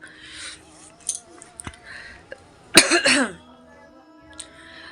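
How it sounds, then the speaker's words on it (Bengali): One harsh cough bursts out close by in a quiet room, with softer throat sounds and faint noises around it. "খুব কেন জানি কাশি উঠলো"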